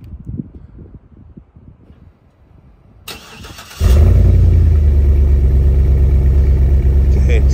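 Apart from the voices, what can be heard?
2008 Hummer H2 SUT engine starting, dual custom exhaust rumble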